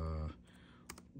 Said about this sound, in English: You guys get to see me typing